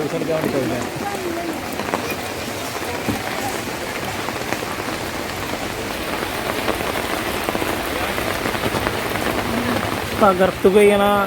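Steady rain pours down at the Kulukkalloor Narasimha temple near Guruvayur, a dense continuous patter on surfaces with faint voices in the background.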